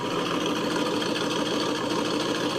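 A warmed-up car engine idles with a loud exhaust, a steady close rumble holding even throughout with no voices over it.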